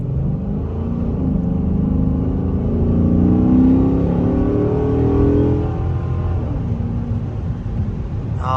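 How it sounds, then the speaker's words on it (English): Chrysler 300C SRT8 with a Hemi V8 revs up in a partial pull, its deep rumble and intake noise rising and then easing off, loud and close with no talking. "I just want to hear the intake noise on the car"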